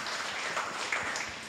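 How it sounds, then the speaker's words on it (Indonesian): Church congregation applauding during a Pentecostal worship service, a brief wash of steady clapping at moderate level with no voices on top. "Yang setuju boleh berikan tepuk tangan yang meriah buat kami."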